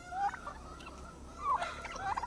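Native chickens, a flock of five hens and one rooster, give sharp rising calls that sound like gobbles. The calls come in several short bursts over a low background, with no voices.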